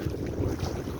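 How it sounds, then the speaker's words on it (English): Wind blows hard across open water while someone paddles a canoe, a steady rough rush with buffeting against the microphone that lasts the whole moment. "it's windy in the worst direction"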